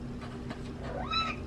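A pet cat gives a short, rising meow near the end, close and moderately clear over a steady low background hum.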